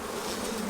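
Honeybees buzzing during a hive inspection, a dense steady hum heard close up with no talk.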